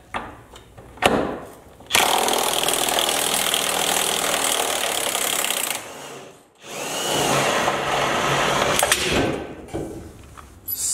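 An impact wrench runs on a rusted bolt of a Jeep Cherokee with unibody rust, two loud sustained bursts of harsh mechanical whirring and hammering separated by a brief pause, close and with no talk.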